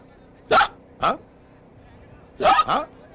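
Several sharp hiccups, one isolated then a quick pair, with a short pause between, heard close up.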